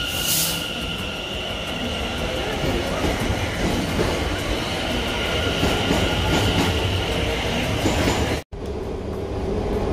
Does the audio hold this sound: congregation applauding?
no